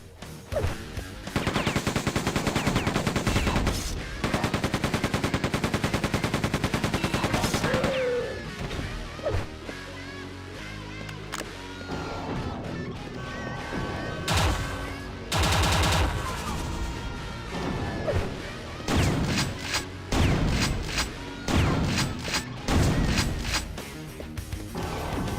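Dense, sustained automatic turret fire in Quake II, a loud rapid stream of gunshots with crashing impacts, running in heavy bursts with brief lulls across the whole stretch.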